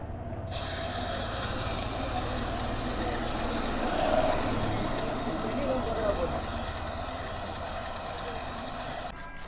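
Aerosol chain lube sprayed onto the chain of a Bajaj N150 motorcycle with the engine off, a steady close hiss running almost without break under a speaking voice.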